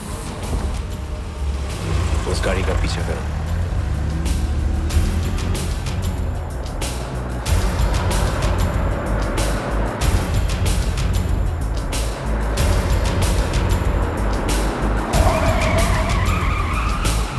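Cars in a chase scene screech and roar, with repeated tire skids and engine surges in loud bursts across the whole stretch, layered with sharp impacts and a rising squeal near the end.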